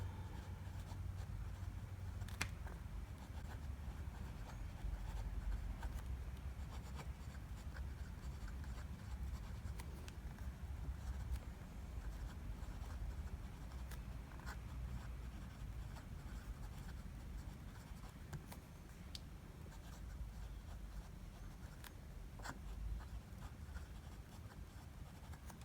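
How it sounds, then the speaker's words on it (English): Fountain pen with a medium nib writing on Endless Recorder notebook paper, a faint steady scratching with small strokes, close up over a low background hum. "I'm going to do a quick writing sample."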